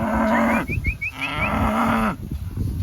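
Cattle low repeatedly as cows are let into a summer pasture of sorghum-sudan and cowpea, several loud, close moos with a short pause between calls.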